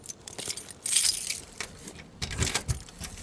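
A large bunch of metal keys jangles and clinks in bursts inside a pickup work truck, with brighter rattles near the start and again toward the end, close by and moderately loud.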